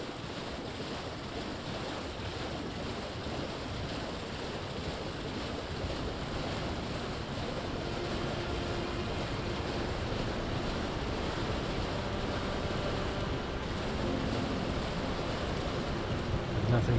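Waterfall in Elden Ring Shadow of the Erdtree's Stone Coffin Fissure roars as a steady, dense broadband rush that continues unbroken and fairly loud throughout.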